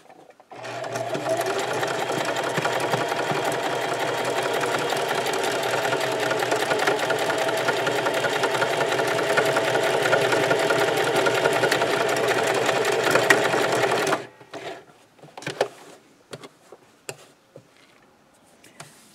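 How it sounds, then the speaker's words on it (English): A sewing machine stitches a buttonhole on a fabric scrub cap in a long, steady, loud whir of rapid needle ticks for about fourteen seconds, then stops, leaving scattered clicks and handling noises. "I'm going to do my other buttonhole"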